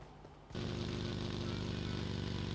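A motorcycle engine in the PUBG video game starts up abruptly after a quiet moment, then holds a steady buzzing drone close by, no talking.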